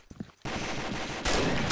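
Automatic gunfire in the Combat Arms shooter game bursts in after a brief quiet moment, a continuous rapid rattle that grows even louder partway through.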